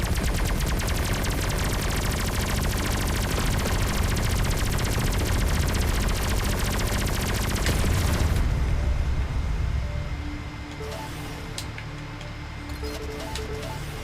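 Spaceship weapons in the space shooter Everspace 2 fire a dense, continuous barrage of rapid shots and blasts that drops to a quieter hum with scattered pops after about ten seconds, with no voices.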